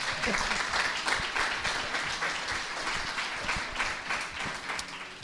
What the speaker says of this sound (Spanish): Alberto, ahora aplauso para Alberto.